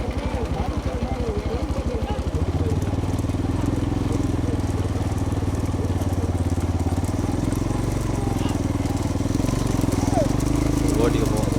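A motor vehicle engine rumbles close by on a road, a steady mid-pitched drone with a rapid pulsing beat at first, while people talk loudly over it.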